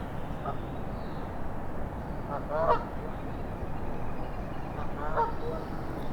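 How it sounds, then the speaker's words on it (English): Canada geese honk a few times at a distance near a swan nest on a small island, the calls faint and scattered over a steady outdoor wash of wind or water. "The Canada geese visit."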